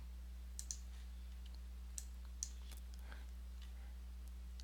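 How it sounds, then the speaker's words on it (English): Several sharp, isolated computer mouse clicks come close and crisp at uneven intervals while working in an Excel spreadsheet, over a steady low electrical hum and no speech. "Go ahead and save that file by clicking up here"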